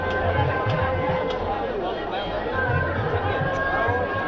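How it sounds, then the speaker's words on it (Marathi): Dense crowd chatter fills a temple fair (jatra) in Sherle village, a steady murmur of many voices close and far with no single voice standing out. "गर्दीसुद्धा भरपूर आहे."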